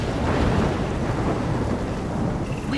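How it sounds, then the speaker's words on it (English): Thunderstorm in the video game Life is Strange: a loud, steady roar of rain and rolling thunder fills the whole stretch, dense and close without a break. "I'm trapped in a storm?"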